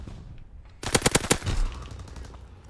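A rapid burst of machine-gun fire in Call of Duty WW2, about six sharp loud shots in quick rhythm followed by a rumbling tail and quieter background game noise.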